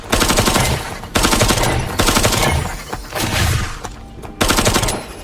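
Submachine gun or assault rifle fire in a video game: loud, rapid bursts of shots come in several rounds, each cut off by a brief pause.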